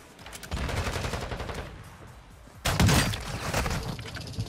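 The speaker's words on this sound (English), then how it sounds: "That shotgun's stupid, man." Booming shotgun blasts in an online shooter video game, a burst of dense fire followed by a louder, close blast, with no talk over it.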